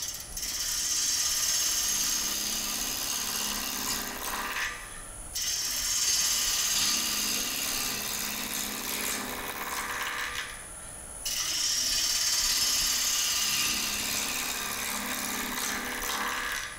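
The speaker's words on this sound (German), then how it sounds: "Mit dem Fingernagelanschliff kann ich schnell Material abnehmen." A wood lathe spins a square bowl blank while a fingernail-ground gouge takes quick cuts, producing rhythmic rough scraping and chattering as the corners strike. Three long passes are separated by brief pauses.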